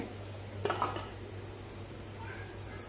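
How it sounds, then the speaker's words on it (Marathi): A metal sieve is set on a pot of boiling water and a lid goes on to steam a potato and sabudana papad mixture. A couple of quick light metallic taps are followed by a quiet, steady background hum. "आपण चाळण टोपावरती ठेवूया"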